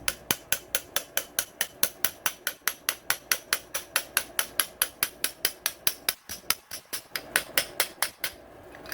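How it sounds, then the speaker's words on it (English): A small metal punch is tapped steadily against a piston wrist pin, about forty light, evenly spaced metallic taps in quick succession, close and crisp, with no talking. "I'll just take a small punch and lightly tap the wrist pin through."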